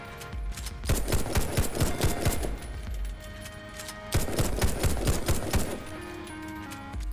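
Desert Eagle pistol in Warface fired rapidly in two sustained bursts of sharp, overlapping shots, loud and close, with a short pause between the volleys.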